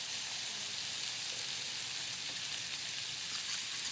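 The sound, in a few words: warm milk poured into hot oil and flour roux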